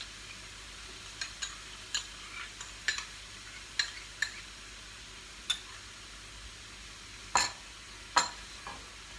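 A spoon stirs tomato puree into a pot of green bean tajine, giving sparse, faint clicks and taps against the pot at irregular intervals over a quiet background.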